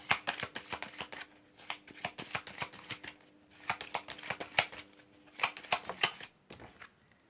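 Tarot cards shuffled and flicked in the hands, a fast run of crisp papery taps and riffles close by, with two brief pauses.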